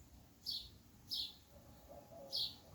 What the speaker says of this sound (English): to the songs of birds